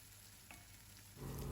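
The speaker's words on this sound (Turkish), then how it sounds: "Aynı tavanın içerisine bir yemek kaşığı tereyağı ve daha sonra 300 gram az yağlı kıymayı ekliyorum ve kıymanın rengi dönene kadar kavuruyorum" Ground beef, lean and minced, frying in a spoonful of butter in a pan, a steady soft hiss that swells louder near the end as the meat is stirred; no one talks.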